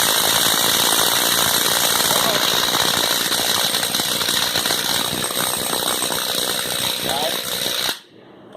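A Ridgid X5 1/2-inch impact driver hammers on a semi truck lug nut, a loud continuous rattling buzz held for about eight seconds before cutting off abruptly.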